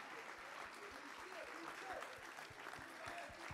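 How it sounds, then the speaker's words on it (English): Church congregation standing to applaud a young man: faint, continuous clapping from a crowd, with soft low thumps and murmuring voices underneath. "Let's rise and clap for this young man."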